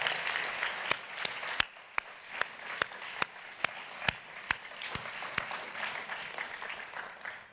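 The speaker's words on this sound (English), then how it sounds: "they deserve your applause." An audience at a plenary session applauds the organizing team: soft, steady clapping from a crowd at a moderate distance, with a few sharper, closer claps standing out at intervals.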